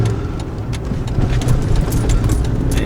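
Quarry trucks haul limestone along a road, a steady low engine rumble and tire roar passing close and fairly loud, with no talk.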